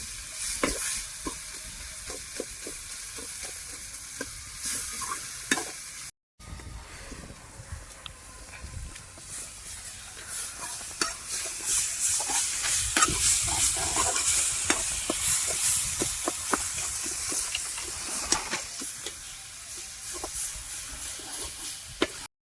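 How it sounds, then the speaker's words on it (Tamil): Onion and tomato with rock salt sautéing in a pan for Tamil-style egg curry, a steady close sizzle with frequent stirring scrapes, briefly cut off and then growing louder and busier toward the end. "கொஞ்சோண்டு உப்பு போட்டுக்கலாம் கல்லுப்பு நல்லா வதங்கிக்கலாம்"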